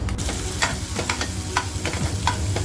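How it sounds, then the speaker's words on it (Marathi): Onion, green chili, ginger and garlic frying in a pan for smoky mutton tandoori keema, giving a steady close sizzle with repeated scraping stirs of a spatula throughout, no talking. "मिरची अद्रक आणि लसूण अशी ती सुद्धा छान याच्यामध्ये खमंग फ्राय झालेली आहे"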